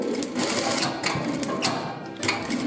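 A sewing machine runs a seam on women's trousers, giving a close, fast, steady mechanical stitching rattle that continues with only slight dips in pace, with no talking.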